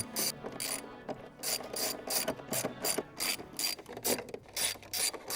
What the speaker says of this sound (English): we can remove all of these 10 millimeter little bolts